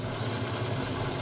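A sewing machine runs steadily, a dense, continuous mechanical hum close by with no break and no voices.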